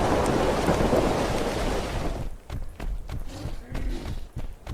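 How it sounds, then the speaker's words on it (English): A retreating thunderstorm in the video game Ark Ascended: a heavy roar of rain and rumbling thunder fades after a couple of seconds, leaving scattered raindrops and soft ticking impacts. "have a listen, if you can, to the expert sound design put on the back end of the storm as it retreats off map"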